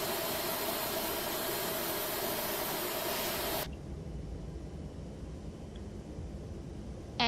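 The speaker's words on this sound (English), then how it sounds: "you will see that the engine 2 is starting up" Simulated engine 2 of an A320 spooling up in a flight simulator game: a steady broadband hissing roar with a tonal whine that cuts off abruptly midway, leaving a quieter low rumble.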